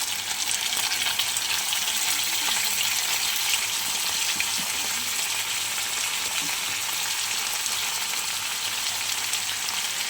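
Ridge gourd frying in a hot pan with poppy seed and green chilli paste, a steady soft sizzle that stays even and moderately quiet throughout with no voices.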